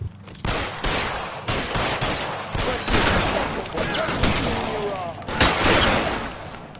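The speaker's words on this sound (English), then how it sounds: "Keep shooting." Rapid bursts of gunfire fill a shootout in the video game L.A. Noire, dense and loud throughout, with repeated volleys and sharp impacts layered over shouted voices.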